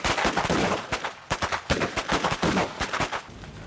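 Rapid bursts of blank gunfire crack on a film set for a Texas Chainsaw horror movie, loud dense volleys with overlapping shots and brief pauses, close and unaccompanied by talk.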